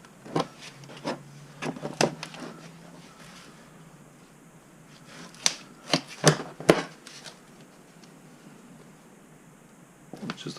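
A wrench works the 17mm coolant bolt on a Mazdaspeed6 during a Corksport CST4 turbo install. Sparse, close metallic clicks and scraping rubs come in short bursts, separated by quiet pauses.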